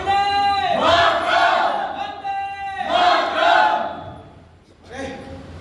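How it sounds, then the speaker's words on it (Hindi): A large crowd of freedom-struggle protesters chants slogans in unison, loud, rhythmic call-and-response phrases rising and falling in three long swells, with no separate talk. "ये भीड़ तो भजन करते करते नारेबाजी करने लगी।"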